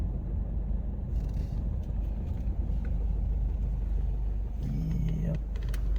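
Car engine idling at a closed retreat gate in rural Australia, a steady low rumble that holds for several seconds, close and continuous, with faint clicks and shifts toward the end.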